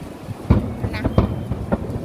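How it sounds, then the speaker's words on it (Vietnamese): A loose metal roof sheet is lifted and rattled by strong wind during heavy flooding. Irregular heavy thumps and clatters rise above a constant rushing roar, with a voice talking nearby. "Nè gió miếng tôn nó dở nha,"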